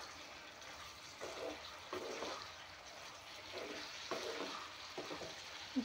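Boiled makhana (fox nuts) fry in a pan with a steady, crackling sizzle, with louder bursts at intervals suggesting stirring. No one speaks.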